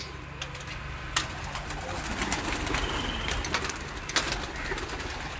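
Pigeons coo on a rooftop in Sarai Alamgir amid a dense outdoor hubbub, with occasional sharp clicks or wing sounds rising above the steady background.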